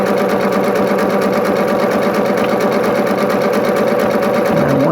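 A sewing machine stitches a zigzag appliqué at a steady fast pace, its needle producing a loud continuous mechanical whir with rapid even knocking, close and unbroken throughout.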